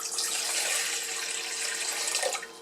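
Tap water pours steadily into the bowl of a Hamilton Beach stand mixer, a continuous close hiss and splash lasting a couple of seconds before easing off slightly at the end.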